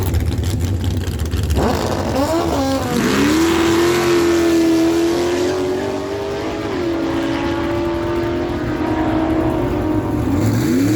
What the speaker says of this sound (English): the 1998 Joe Wright dragster dialed in at a 546, and the bike on the right side is going to dial 651